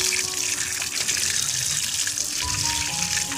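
Tap water runs steadily into a kitchen sink while cooked food is rinsed, a continuous close splashing gush with slight shifts in tone as the stream hits the food and basin.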